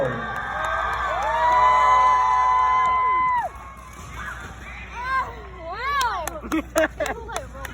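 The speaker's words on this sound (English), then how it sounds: "make some noise and shout some love. The louder you cheer, the harder they will perform." A crowd at the Blue Angels air show cheers for a drill team at a drill meet, with sustained shouts and high whoops that swell, dip, then burst again in scattered calls.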